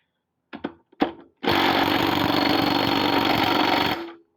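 An impact driver works on a stubborn bolt of a mouldy Mountfield push mower: two short rattling bursts, then a loud, sustained hammering whir for about two and a half seconds before it cuts off.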